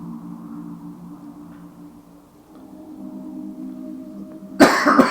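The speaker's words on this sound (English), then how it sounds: "You will obviously notice I've got a cough." A person coughs once, loud and harsh, near the end, breaking in after a stretch of quiet low steady hum.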